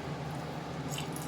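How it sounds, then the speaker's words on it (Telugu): Boiled and cooled milk pouring into a jaggery mixture, a steady wet splashing and gurgling stream that stays close and even for the whole moment, with no talk. "కాచి చల్లార్చిన పాలని పోసుకుందాం."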